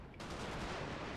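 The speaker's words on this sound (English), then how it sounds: "the grenadiers are now coming under fire" Musket volleys crack out against advancing grenadiers in a Napoleon: Total War battle, a sudden loud burst of gunfire that rolls into a dense, sustained rattle of distant shots.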